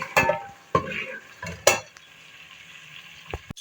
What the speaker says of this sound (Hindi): हम लहसुन अदरक का पेस्ट शामिल करेंगे, इसको थोड़ा सा फ्राई कर लेंगे